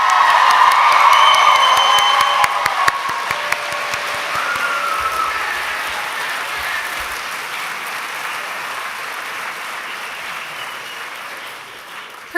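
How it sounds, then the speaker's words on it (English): A large crowd at a high school graduation applauds the class of 2024 loudly with cheers and whoops at first, then the clapping settles into a steady, gradually fading roar. "one more round of applause for the class of 2024"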